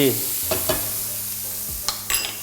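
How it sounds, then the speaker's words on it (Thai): Carrot and broccoli are stir-fried over low heat for a vegetarian sandwich filling, giving a soft continuous sizzle broken by several sharp scrapes and taps of a spatula against the pan. "คราวนี้ก็จะผัดด้วยไฟต่ำๆนะครับ จนทุกอย่างเนี่ย สุกดี"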